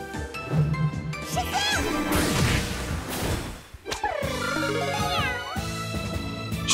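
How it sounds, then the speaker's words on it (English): A character in the video game Trails in the Sky the 3rd gives several clear, close cat-like meows with rising and falling pitch, set over game music and effects. "She just meowed?"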